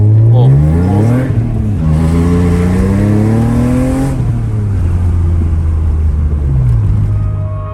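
A drift car with a manual gearbox revs and accelerates in Mexico, its loud engine note climbing and falling in repeated sweeps, close and continuous throughout with no voices.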